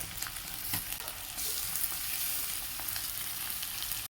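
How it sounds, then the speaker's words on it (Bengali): Chopped green chillies and onion fry in hot oil with a steady, soft sizzle, broken by scraping stirs at intervals, close and fairly quiet, ending in a sudden cut to silence. "কাঁচা লঙ্কা ও পেঁয়াজ কুচোনো এগুলো ভালো করে ভেজে নেবো বা কষে নেব মশলা ভাজা হচ্ছে"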